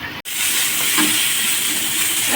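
Sliced pointed gourd (potol) frying in oil makes a close, loud, unbroken sizzle and crackling hiss with no voices.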